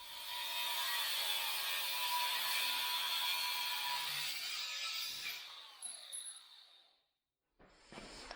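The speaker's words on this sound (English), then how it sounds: "I'm going to go ahead and cut this guy off right here first." A metal bracket clamped in a vise is cut off, giving a loud, steady grinding hiss of cutting for several seconds that tapers off, falls silent briefly, then resumes faintly.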